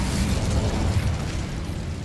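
Incendio fire spell cast in Hogwarts Legacy, a loud continuous fiery roar and whoosh with deep rumbling body sustained for about two seconds, no voices.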